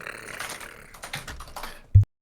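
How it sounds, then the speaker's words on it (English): Fast typing on a computer keyboard, a quick flurry of light clicking keystrokes at moderate volume, ending in one sharp thud before silence. "That's not even like full speed for me typing."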